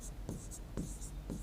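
Chalk or marker writing on a board during a lesson, a few quick scratchy strokes in an uneven rhythm, close and quiet.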